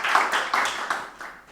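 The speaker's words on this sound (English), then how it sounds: "I appreciate some applause at this point" A small audience gives brief applause, a few bursts of clapping that fade quickly over a second or so.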